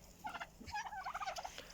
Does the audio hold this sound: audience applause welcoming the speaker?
no